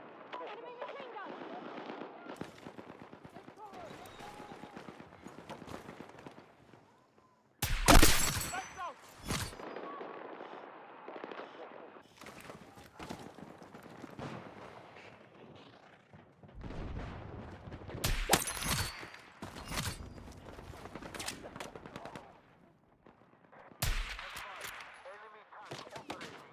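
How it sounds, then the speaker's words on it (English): Machine gun fire in a military shooter game, arriving as several sharp, loud bursts of rapid shots spread across the clip, each standing out from a quieter bed of game noise and radio-style voices. "Enemy machine gun!"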